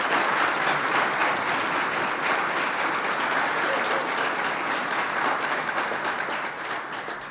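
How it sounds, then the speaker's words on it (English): A vigorous round of applause from a reception crowd honoring the Second Lady of the United States at a March for Life event; dense, sustained clapping from many people at full strength, easing slightly near the end. "Would you give the Second Lady of the United States another vigorous round of applause?"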